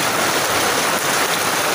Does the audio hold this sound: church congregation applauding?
no